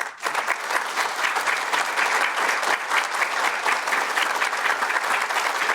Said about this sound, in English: give the future leaders of our county the round of applause they deserve